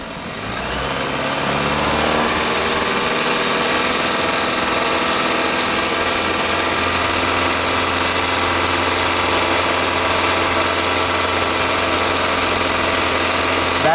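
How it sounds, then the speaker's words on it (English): A car engine rises from idle and holds at about 2500 RPM during a catalytic converter test, a steady loud droning hum that climbs in the first two seconds and then stays constant. "So if I raise engine RPMs,"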